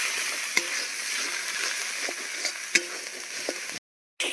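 Spices with Kashmiri chilli powder fry in hot oil with a soft continuous sizzle, broken by a few sharp scrapes and taps of a spoon stirring the pan, then a moment of silence.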